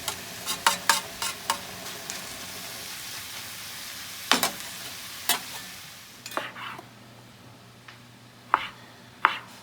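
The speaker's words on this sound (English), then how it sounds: "we've got our garlic going, our onions and mushrooms" Garlic, onions and mushrooms sizzle in a pan with a soft continuous hiss, broken by repeated sharp utensil clacks and stirring scrapes, some in quick clusters, others spaced apart.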